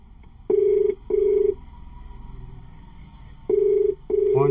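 A phone call rings out unanswered, heard as a ringback tone in two pairs of steady electronic beeps separated by a long pause, clear and close.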